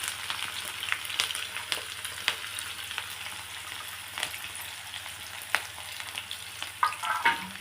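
Chopped onions and green chillies frying in hot oil in a pan, a close, continuous sizzle broken by sharper crackles and scraping stirs, with no voices.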